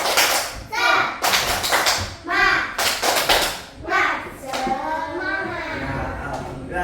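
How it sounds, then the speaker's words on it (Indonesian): A third-grade class in an Islamic religious education lesson performs a rhythmic spirit clap: repeated sharp, loud clapping bursts in a patterned beat, with children's voices in between. "Mari kita tepuk semangat lagi."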